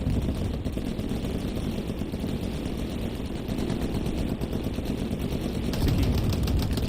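Sustained machine gun suppressing fire in Hell Let Loose, a World War II battle at St Mere Eglise, with steady rapid rattling bursts, loud and continuous, swelling slightly near the end amid battlefield noise.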